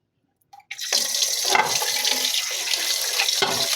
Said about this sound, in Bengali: সবজিগুলা ধুয়ে নিব এখন